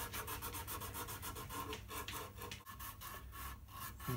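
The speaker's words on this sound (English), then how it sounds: "I'm just smoothing it out now with a bit of 120 grit." Sandpaper of 120 grit rubs back and forth over wood while shaping a guitar neck edge, making a close, steady rasping scrub in quick repeated strokes with no speech.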